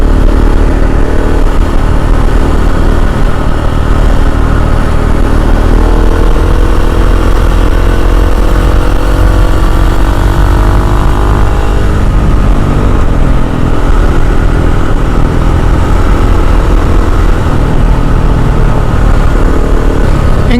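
Engine of a 2021 KTM 690 SMC R supermoto motorcycle, loud and close, a steady rumbling drone with rising and falling revs throughout, no talking.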